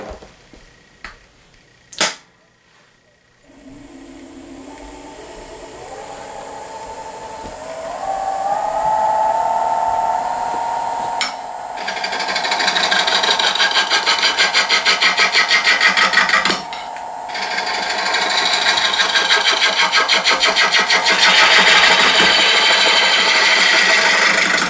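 A wood lathe spins a slightly off-balance hollow form blank at fairly low speed. A few sharp clicks give way to a steady high whine and rising hum, and a rougher, louder rushing texture fills in later, with brief dips.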